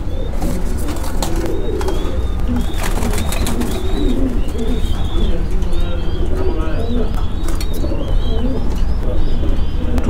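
Several pigeons coo at once in a loft, a continuous, loud chorus of throaty rolling calls with higher chirps and occasional wing flutter, while someone talks over them.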